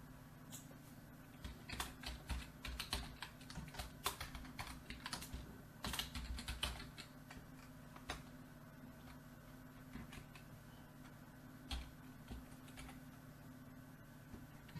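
A computer keyboard types values into a payroll calculator form, with quick bursts of soft, close clicks and brief pauses between entries, recorded quietly over a low steady hum.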